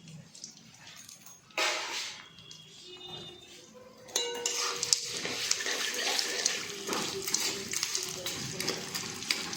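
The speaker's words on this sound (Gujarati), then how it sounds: "હવે આ ગુંદરને આપણે ફ્રાય કરવાના છે ચોખ્ખા ઘીમાં." Edible gum frying in pure ghee in a pan for Gujarati winter vasanu ladoo, a bubbling sizzle that swells sharply partway through, with metal utensil clinks and stirring close by, plus faint voice in the background.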